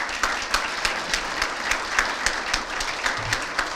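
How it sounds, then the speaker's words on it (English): A Hall of Fame ceremony audience claps for a longtime board member being introduced, a moderately loud, even patter of many hands with a few sharper individual claps standing out. "Let's give her a big round of applause."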